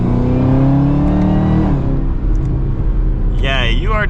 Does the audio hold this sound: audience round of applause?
no